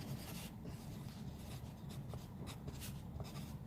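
Quiet scratching strokes of a pen on a paper handout, made while comments are written by hand at an art show judging, come in soft, irregular bursts.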